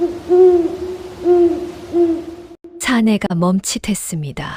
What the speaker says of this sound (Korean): 바로 그때 저 멀리서 부엉이 울음소리가 크게 울려 퍼졌습니다.